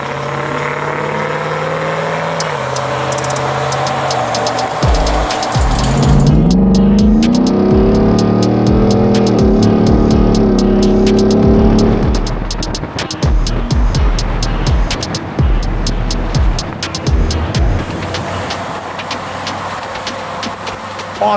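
A Ford Raptor R truck engine revs and accelerates up through rising pitch sweeps, then settles into a lower rumble with clicks and road noise, sounding close and steady throughout.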